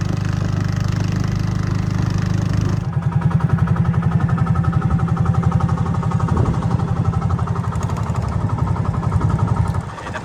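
A motorboat engine idles steadily close by while docking at Isla Pugad, Hagonoy, Bulacan, with a rhythmic chugging throb, changing pitch partway through.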